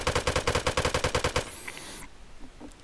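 A gun in the survival game Rust fires a rapid automatic burst of about twelve evenly spaced, loud shots, followed by a brief high-pitched ring and a quiet tail.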